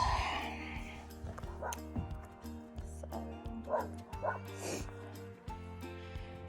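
Small dogs bark and yip in short bursts at a neighbor walking a dog, the barks fairly close and repeated over a steady background hum, with a brief word of speech.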